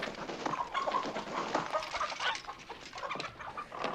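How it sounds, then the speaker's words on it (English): Chickens clucking and squawking as they are chased around by a figure in a ghillie suit, a scattered run of short calls at moderate distance with no talking. "now we got the monster chasing some chickens around"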